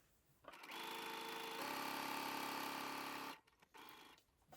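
A sewing machine runs a straight stitch at stitch length 2.5 through crepe fabric, making a steady, close, whirring mechanical hum for about three seconds before stopping. No one speaks.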